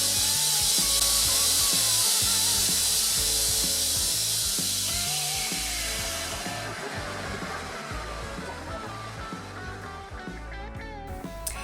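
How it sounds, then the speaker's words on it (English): A belt sander grinds the corners off a wooden handle for a santoku knife, giving a loud, continuous whirring rasp that eases slightly as the workpiece is pressed and repositioned against the belt. "To turn it into a handle by taking off the corners using the belt sander."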